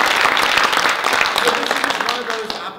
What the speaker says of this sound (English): let's give another big round of applause to both Mr. Vielstra and to Dr.